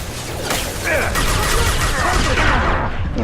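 Gunfire from the Mass Effect 2 video game fills the space in dense, continuous bursts, loud and close, mixed with mechanical clatter and whooshing effects.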